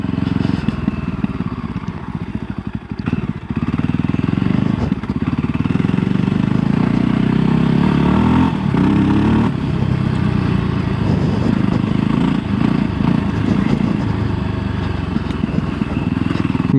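A Voge 300 Rally 2025 motorcycle engine runs steadily and loudly nearby, a throaty continuous drone with slight revving swells while someone talks over it.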